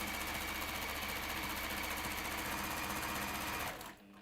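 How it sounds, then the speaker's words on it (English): A small home sewing machine stitches a quilting seam at a quarter-inch allowance with a fast, steady mechanical whir and rattle, close and continuous until it stops abruptly near the end. "Hello, little sewing machine."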